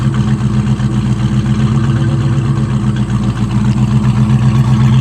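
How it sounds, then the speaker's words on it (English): A Ford Mustang 5.0 Foxbody sends out a steady, throaty V8 exhaust rumble at idle, close and loud, holding an even low pulse throughout with no voices. "Got a beautiful sounding exhaust on it."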